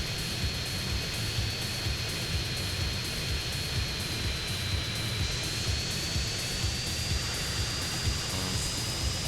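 A droning airplane engine hums steadily overhead with a constant whine, continuous and even throughout, no voices.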